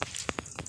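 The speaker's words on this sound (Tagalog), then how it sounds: "lumakas yung ulan kaya natagalan ako" Heavy rain pours down steadily at close range as a broad hiss with a few louder splashing bursts, no voices.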